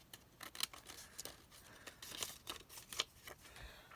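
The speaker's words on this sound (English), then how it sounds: "I can come back in here with the scissors and trim that out" Scissors snipping and trimming paper in a papercraft project, a series of short crisp cuts with faint crinkling, close and fairly quiet, with no talk.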